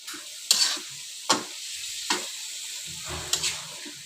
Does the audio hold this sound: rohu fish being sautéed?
yes